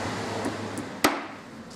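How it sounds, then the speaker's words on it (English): A hammer strikes a part of a Hewland racing gearbox once, a single sharp metallic knock standing out from a low background hum. "Hit it with a hammer."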